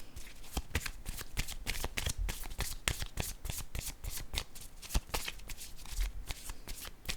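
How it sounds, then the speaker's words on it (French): Playing cards are shuffled and handled close up in a quiet room, a steady run of quick crisp riffling flicks that lasts the whole stretch, with no talk over it. "Je vais piger une autre carte."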